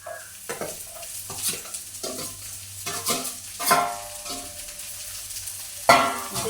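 Okra fries in oil in a pan for vendakkai poriyal, a close crackling sizzle punctuated by frequent scraping stirs of a spatula against the metal, with a louder clatter near the end.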